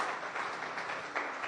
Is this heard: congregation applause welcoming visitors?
yes